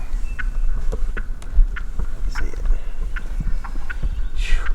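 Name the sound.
wild turkeys gobbling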